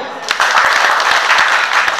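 An audience claps at the inauguration of the Shapla artist development organization, with a short burst of dense, fairly loud applause close by and voices mixed in.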